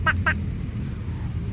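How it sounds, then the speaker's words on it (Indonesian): Toy duck giving two quick quacks up close over a low, steady background rumble, brief and alone without talk. "Yang ini bebek."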